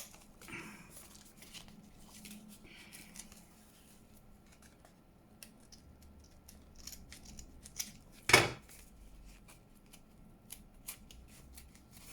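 Scissors snipping paper for a craft booklet, a single sharp close cut standing out from quiet rustling and faint handling noises.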